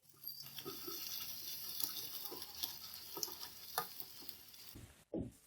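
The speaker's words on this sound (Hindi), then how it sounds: "लहसुन अदरक के पेस्ट को हम 1 मिनट फ्राई करेंगे।" Steady crackling sizzle of garlic ginger paste frying in a hot pan, with occasional stirring scrapes and a short clatter near the end.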